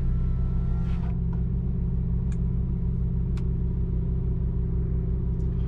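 Ferrari 458 Italia engine idling steadily with a loud, even low rumble that holds throughout, marked by a few short clicks and faint higher tones, with no voices.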